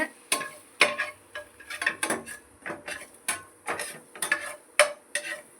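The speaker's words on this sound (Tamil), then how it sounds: "சால்ட்டு, பெப்பர், இது எல்லாமே சேர்த்து நல்லா ஃப்ரை பண்ணிக்கோங்க" Vegetables seasoned with salt and pepper fry in a pan, stirred steadily so a spatula scrapes and taps in a repeated rhythm over a light sizzle, close up with no talking.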